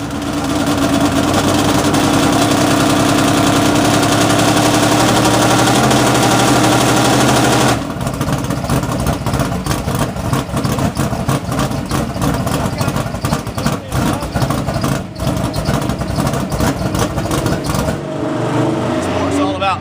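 Mini stock race cars idle and rev at Senoia Raceway, a loud, continuous engine drone with throttle blips that shifts in tone partway through and carries on under steady commentary.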